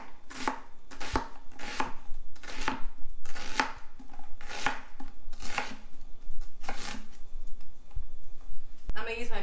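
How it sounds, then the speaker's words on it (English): A knife dices standard yellow onions on a cutting board with a steady run of crisp, close chopping taps, pausing briefly before resuming, with no speech over the cutting. "These are just your standard yellow onions. I like to do these in just a nice fine dice."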